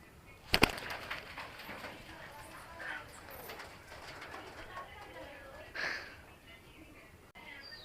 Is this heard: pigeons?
yes